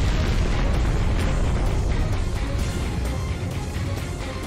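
A massive explosion's aftermath rolls on as a deep, sustained rumble, a heavy low roar that holds steady and then slowly thins over several seconds, with crackling debris noise spread across the top.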